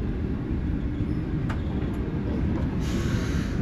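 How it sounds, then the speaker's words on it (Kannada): A Vande Bharat express train running nonstop toward Mysuru, heard from inside a carriage: a steady, loud low rumble of wheels on rails with a constant hiss and a few faint clicks, no talk. "ಟ್ರೈನ್ ಅಂತೂ ಎಲ್ಲೂ ನಿಂತಿಲ್ಲ, ಇನ್ನೂ ಹೋಗ್ತಾನೆ ಇದೆ"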